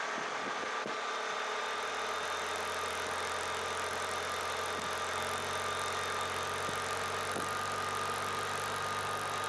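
An off-road UTV engine in sport mode on an open desert commute near Pahrump, Nevada, runs with a steady, loud, continuous drone and a faint whine, with no voices.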